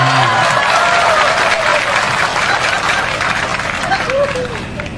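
Loud, sustained audience applause with crowd noise fills a comedic Islamic sermon gathering, steady clapping running throughout with some murmuring mixed in.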